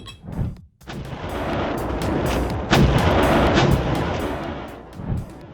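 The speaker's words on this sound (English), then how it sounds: "Meet the Crab, a 155mm self-propelled howitzer that's changing the game" Crab 155mm self-propelled howitzer firing, a loud close boom followed by a long rolling blast and sustained rumble, with another muffled report near the end; no talk.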